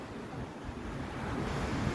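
Sea waves wash against the sandy beach beside a Tel Aviv promenade, a steady broadband rush of surf mixed with wind noise, moderately faint and continuous with no voices.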